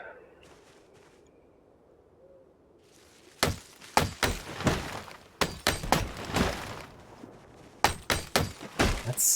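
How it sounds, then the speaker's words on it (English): Distant gunshots from a meta event in the survival video game Project Zomboid, a series of sharp, loud cracks arriving in irregular bursts after a quiet stretch. "Gunshot coming from the north."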